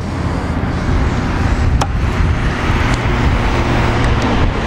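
Harley-Davidson Dyna Street Bob FXDB motorcycle with factory exhaust idling after being fired up, a steady low rumbling drone that fills the whole stretch, close and fairly loud with no talk.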